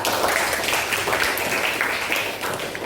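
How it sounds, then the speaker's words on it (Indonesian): Students in a junior high school classroom in Tanjungpinang clap for a classmate in a short, steady burst of applause, with faint voices underneath. "Tepuk tangan untuk Rasya."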